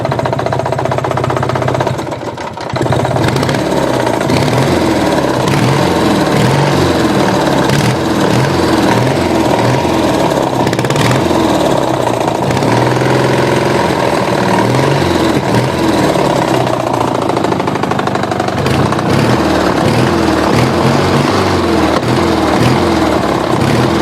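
A small engine runs steadily throughout at a low, lumpy idle with a dense, buzzing chug, close and loud, after a brief dip early on as it is restarted.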